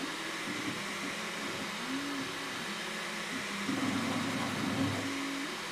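A Bambu Lab X1 Carbon 3D printer runs with its ventilation fan and activated-carbon filter going, giving a steady whooshing fan noise with shifting motor tones as the print head moves quickly. No one speaks.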